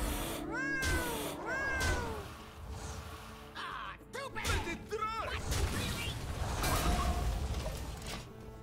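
Repeated cat meows sound from a Hearthstone-style card game, several short rising mews spread across the stretch over busy game effects and background music, with a voice briefly present.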